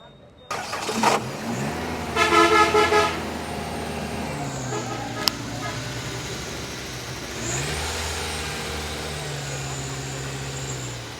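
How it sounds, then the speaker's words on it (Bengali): A car engine turns over and settles into a steady idle nearby, with a brief horn-like burst early on and a voice speaking over it. "গাড়ির ইঞ্জিনের সাউন্ড খুব সুন্দর"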